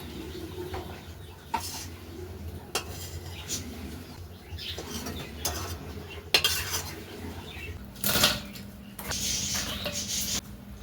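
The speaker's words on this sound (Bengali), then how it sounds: "এখন শুধু আলু আর কুমড়ো কাটবো, বুঝলে।" A knife cutting potato and pumpkin in a home kitchen, with scattered close knocks and scrapes against utensils and a board, a few louder clatters, and birds faintly in the background.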